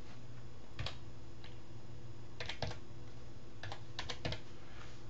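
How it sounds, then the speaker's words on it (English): Fingers type a color code on a computer keyboard while building a web banner: a few quick clusters of light clicking keystrokes separated by pauses, close and clear, with no talking. "I'm going to type in the color because I know what color I want there."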